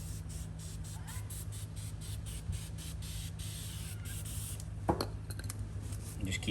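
Rapid repeated spray bursts of rubber remover onto car paint, a hissing pulse over steady low hum, followed by a few louder clattering handling noises near the end.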